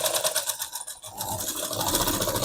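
Sewing machine stitching a blouse yoke, its fast needle whirring in a steady rhythmic buzz that dips briefly and then resumes, close and fairly quiet.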